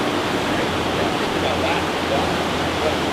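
Rushing river water in the Amazon jungle, thousands of cubic feet per second pouring through, makes a steady, loud broadband roar that holds unchanged throughout.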